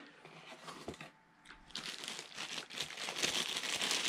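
Plastic wrapping and foam padding crinkle and rustle up close as they are pulled from the box of a PXN arcade fight stick, a brief lull followed by steady, louder crumpling.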